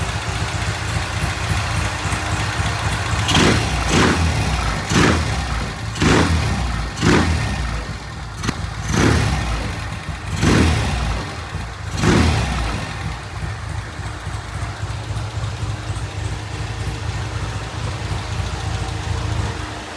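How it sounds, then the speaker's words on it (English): A 1971 Norton motorcycle engine idles steadily while being revved in a series of sharp bursts, about seven quick throttle blips in the first half, then settling back to a loud idle. "I'm gonna give it a few revs, see how it sounds."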